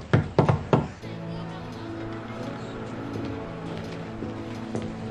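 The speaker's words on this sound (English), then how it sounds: "I missed that knock." A secret knock on a classroom door at an elementary school, heard as a quick series of sharp, loud raps in the first second, followed by a low steady room hum.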